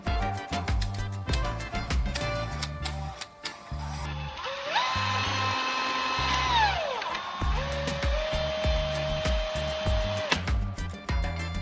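A power drill works into the graphite core of a pencil, its motor whining in steady sustained tones that rise and then drop as the bit bites, with rhythmic mechanical clatter and pulsing before and after.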